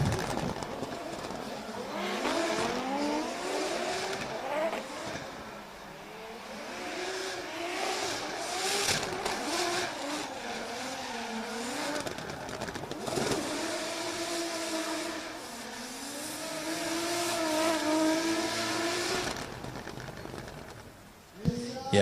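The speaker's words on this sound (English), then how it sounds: "what a run from Ali Maxid as we see him bringing over the line" Drift cars on a qualifying run at an international drift championship in Oman, engines revving and wailing through repeated rising and falling pitch sweeps, fairly distant, with commentary-style talk and crowd-like noise mixed in.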